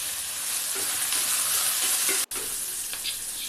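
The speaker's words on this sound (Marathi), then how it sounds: "मी तो कांदा आता परतवून घेणार आहे" Chopped onion with salt sautéing in a pan, a loud continuous sizzle close by with faint scrapes of a spoon as it's stirred, briefly cut off for an instant before resuming.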